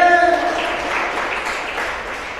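Audience applause at a public gathering rises right after a brief voice and continues as a steady, dense wash of clapping to the end.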